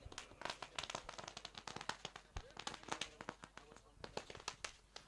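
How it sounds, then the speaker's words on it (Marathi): Rapid, dense crackling bursts of firecrackers going off continuously at a welcome during a cricket tournament, with a loud bang near the middle, while people talk underneath. "फटाक्यांच्या आतिषबाजीने आम्ही त्यांचं या ठिकाणी स्वागत करत आहोत"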